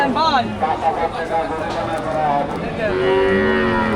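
A young bull calf at the Safarmali cattle market in Chandpur gives a drawn-out, close moo that rises late in the moment, set against the chatter and bustle of a crowd of traders.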